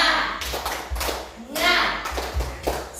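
A group of school principals and teachers at a positive-culture workshop does a rhythmic spirit clap, a few patterned bursts of claps and taps with voices calling along between them.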